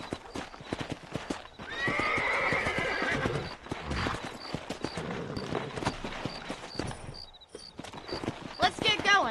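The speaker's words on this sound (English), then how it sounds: "Let's get back on the horses and see what else is going on." Horses in the Red Dead Redemption video game clip-clop along at a steady walk, with loud neighs and whinnies rising over the hoofbeats and a voice speaking between them.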